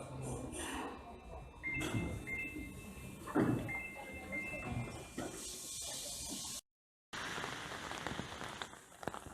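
Rain falling in Sapporo, Hokkaido, Japan: a soft continuous patter of drops on surfaces under a voice, with a sliding-door-like scrape and a short total dropout near the end.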